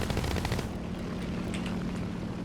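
Rapid bursts of aircraft cannon fire in War Thunder, loud dense rattling shots hammering out at the start and then continuing as a sustained rumbling barrage with scattered sharp cracks.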